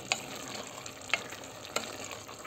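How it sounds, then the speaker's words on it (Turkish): Chicken, mushroom and vegetable sauté being stirred in a hot pan after salt and black pepper are added, with a steady sizzle and three sharp utensil scrapes against the pan, close and fairly quiet. "Karabiberimizi ilave ediyoruz ve güzelce karıştırıyoruz."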